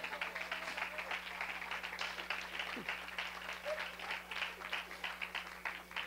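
A congregation at a church prayer service claps in a steady, fairly faint patter of applause that runs throughout, with a voice faintly present beneath it.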